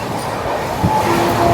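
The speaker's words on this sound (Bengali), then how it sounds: "ট্রেন ছুটে চলেছে আমাদের গন্তব্যের দিকে" The Humsafar Express from Sealdah to Jalpaiguri runs along with a low, continuous rumble of wheels on track, heard close and steady from near an open carriage door, with no voices.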